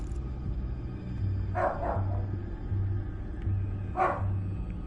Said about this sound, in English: sorry if y'all can hear the dog barking